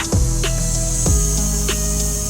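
Steady loud hiss of air escaping from the air suspension on a Toyota minitruck, continuous throughout with a few faint knocks over it.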